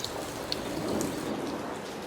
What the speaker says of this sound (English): But then it actually did start raining